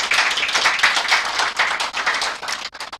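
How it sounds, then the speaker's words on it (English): Applause from an audience at the launch of Nigeria's maiden corporate sustainability report, dense steady clapping that holds for about three seconds before thinning into a few scattered claps at the end. "Please, can we give her a round of applause?"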